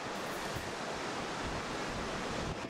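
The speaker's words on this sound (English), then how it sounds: "Today is not just cold, it's also windy." Wind blows hard at the mouth of the Niagara River on a cold day, a steady broadband roar of gusts buffeting the air, fairly faint and unbroken with no voices.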